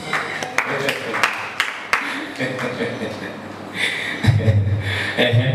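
A church congregation claps for Jesus in scattered, uneven bursts, with a preacher speaking in Swahili and louder voices over the clapping.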